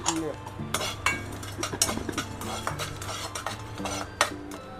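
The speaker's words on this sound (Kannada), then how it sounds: "ಈಗ ಚಕ್ಕೆ ಮತ್ತು ಲವಂಗ 2 ಹೊತ್ತಿಗೆ ಸ್ವಲ್ಪ ಹುರ್ಕೊಳ್ಳೋಣ." Cinnamon and cloves are dry-roasted in a pan for sambar powder, with a metal spoon stirring and scraping against the pan in a busy run of clinks and scrapes, close and moderately loud.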